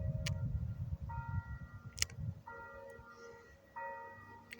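A bell tower at a hillside family estate winery in West Kelowna sounds a few sparse, ringing tones that sustain and decay, fairly faint and distant, with some rumbling background noise early on.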